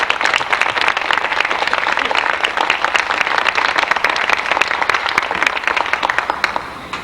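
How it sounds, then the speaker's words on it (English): An audience at an elementary school band concert applauding the young musicians, a loud, dense, sustained round of clapping from many hands that continues steadily throughout. "Can we give them another round of applause for this?"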